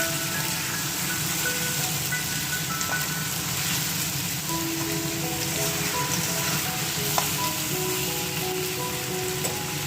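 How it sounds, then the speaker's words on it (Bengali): Watermelon rind curry fries in a pan with a steady, close sizzle and crackle throughout, plus occasional light clinks from stirring. "এবার আমি এটা দুই তিন মিনিট ভেজে নিয়ে"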